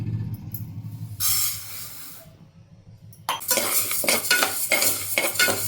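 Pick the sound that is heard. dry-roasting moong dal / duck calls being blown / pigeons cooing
dry-roasting moong dal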